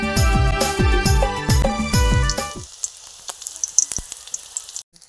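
Oil goes into a hot kadhai on a chulha for potato and greens, crackling and sizzling in soft, scattered pops; tonal music plays loudly over the first half before the frying is left alone.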